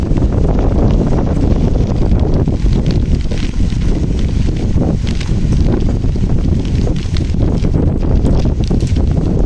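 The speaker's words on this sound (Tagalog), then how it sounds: "hangin." Strong, steady wind gusting during Typhoon Christine, a loud continuous roar with buffeting rumble on the microphone throughout.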